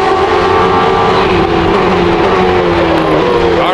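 Benetton Renault Formula 1 car accelerating hard on a straight at the Termas circuit, a loud continuous engine scream with rising pitch that stays close and dominant throughout, no talk over it.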